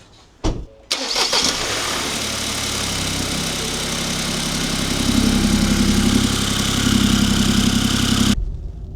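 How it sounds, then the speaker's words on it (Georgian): An old Ford Bronco engine cranks and catches, then settles into a rough, shaky, steady idle that swells slightly before cutting off abruptly. "ძრავს აქვს ხმა და ყანყალებს"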